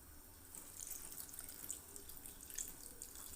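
A little water is added while cooking, and it sounds as a soft, continuous pouring or running trickle throughout, faint and close, with no talk.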